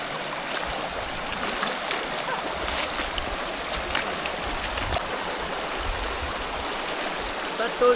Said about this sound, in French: Patauger dans l'eau froide